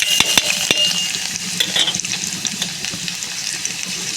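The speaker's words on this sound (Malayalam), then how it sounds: "ഇപ്പം എണ്ണ ചൂടായി കഴിഞ്ഞപ്പം കടുക്, ജീരകം, ചതച്ച വെളുത്തുള്ളി, ഉണക്കമുളക്, അതുപോലൊക്കെ ഉഴുന്ന് പരിപ്പ് ഇതിട്ട് കൊടുക്കാം." Mustard seeds, cumin, crushed garlic, dried chilli and urad dal frying in hot oil as a tempering for palakura pappu, with a bright, busy sizzle and sharp crackling pops clustered early, then a steady spitting hiss.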